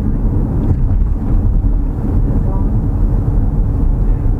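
Low, steady road rumble from the tyres of a Renault Captur plug-in hybrid rolling on pavement, constant and close, with a faint wind rush over it.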